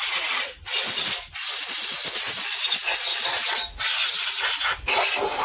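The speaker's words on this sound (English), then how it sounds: "we'll be spraying it back down with the oil again until he gets his parts" A continuous hiss of pressurized air-hose spray coating 1994 Ford Mustang 302 V8 engine parts with oil in a backyard, steady and close, broken by a few brief pauses where the spray stops and restarts.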